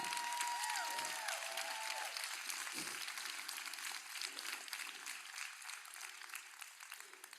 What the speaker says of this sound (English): Give yourselves a big, freaking huge round of applause for being here right now.